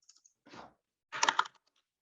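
Numbers typed on a computer keyboard during a mining investment webinar: a few faint taps, then a brief cluster of crisp close key clicks, alone in a quiet room.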